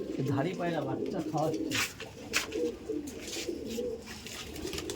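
Old Madras pigeons coo in a loft where flying birds are feeding their chicks, a steady soft murmur of calls running the whole time while a person talks over it near the start.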